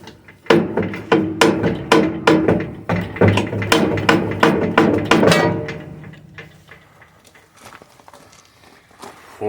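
Welded trailer cross member cracking and breaking off, a loud series of sharp metallic snaps and creaks in an irregular rhythm that fades into quieter scraping and rattles.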